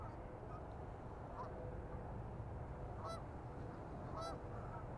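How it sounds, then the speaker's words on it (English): Birds honk a few times over a steady low rumble of outdoor background noise at a park, the calls faint and distant. "Those birds landing in the water."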